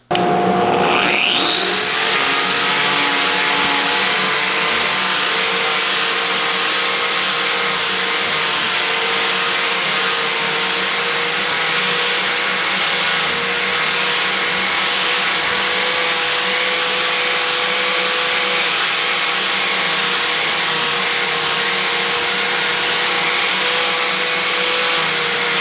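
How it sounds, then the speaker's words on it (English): A shop vacuum system hooked to the dust hose of an Arbortech power carving kit spins up at the start, then roars loudly and steadily at close range with a constant high whine. "I'm gonna hook up my vacuum system to the end of the hose"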